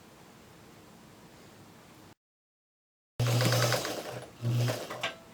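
A sewing machine stitching a log cabin quilt block: a soft hiss, a brief silence, then a louder burst of rapid stitching with low motor hum that surges twice, close and alone.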